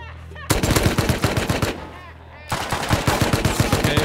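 Automatic weapon fire in the survival game Rust, two loud, close bursts of rapid shots, the first about two seconds long, a brief pause, then a second burst, with no talking.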